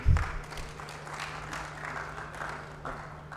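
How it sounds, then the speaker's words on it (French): Audience applause at a panel discussion on off-grid power, renewable energy and energy efficiency, a fairly faint, steady wash of clapping from a medium-distance crowd with a low hum underneath. "Donc, applaudissez, merci"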